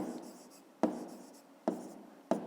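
Pen or pencil scratches on paper while someone writes out a fifth-grade math exercise by hand, with short scribbles marked by three crisp taps, quiet and close.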